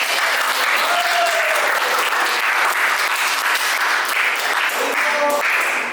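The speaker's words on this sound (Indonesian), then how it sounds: "Beri aplaus yang mulia." Sustained applause from a classroom audience fills the whole stretch, dense steady clapping with no pause, loud and close.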